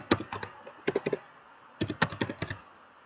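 Keys clicked on a computer keyboard while entering names into an Excel spreadsheet, two quick bursts of close, crisp typing separated by a short pause, with no voice.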